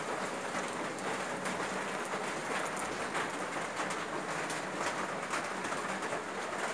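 Heavy rain pours steadily in a village, a dense continuous patter on surfaces with no talking.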